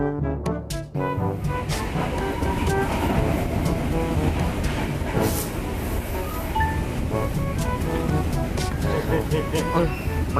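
Commuter trains crossing at Sidoarjo station on the Surabaya line, a loud continuous rumble with clattering wheels and metallic clinks close by, people talking over it.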